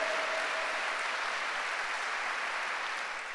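A church congregation at an El Shaddai churches congress applauds in a steady, dense wash of clapping that holds evenly for a few seconds, with no voices rising above it.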